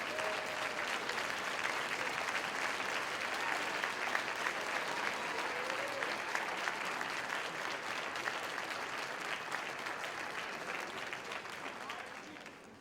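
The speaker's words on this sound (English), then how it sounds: "Graduates, please give them a round of applause." Graduates at a December commencement ceremony applaud their families, a sustained, even wash of clapping from a large crowd that stays steady for several seconds before tapering off.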